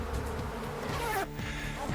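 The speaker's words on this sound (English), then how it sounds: "You generally don't mess around with killer bees" Africanized killer bees in Arizona give off a dense, steady buzz, close and continuous throughout, with no voices.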